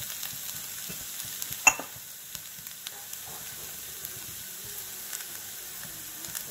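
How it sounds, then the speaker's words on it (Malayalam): Fried onion and sliced green chili stirred in a pan, a soft steady sizzle with scattered light scraping taps and one sharper clink early on, quiet and close. "അപ്പോൾ ഇതിലേക്ക് നമുക്ക് ഒരു പച്ചമുളക് വട്ടത്തിൽ അരിഞ്ഞു വെച്ചത് നമ്മൾ ചേർത്ത് ഒന്ന് ഇളക്കി കൊടുക്കാം"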